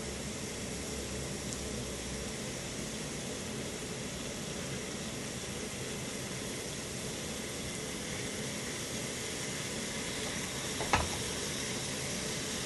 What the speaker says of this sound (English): put your steaks on here. They will not take long to cook.